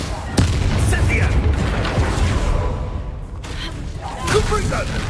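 An Incendio fire spell cast in Hogwarts Legacy during combat, a sharp booming burst followed by rumbling, crackling blasts, with a voice speaking over the action.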